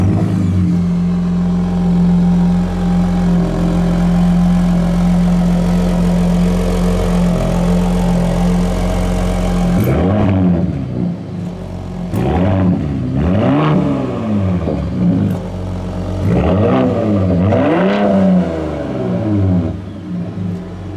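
A 2021 Ford F-150 Raptor engine idles with a deep steady rumble, then revs repeatedly in sharp rising bursts, the exhaust barking close and throaty.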